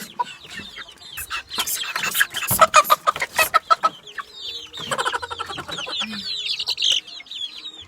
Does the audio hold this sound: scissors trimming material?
no